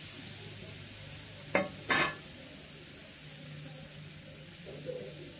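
Grated coconut tipped into a hot kadai gives a soft, steady sizzle, broken by two quick scraping stirs near the start, with no talking.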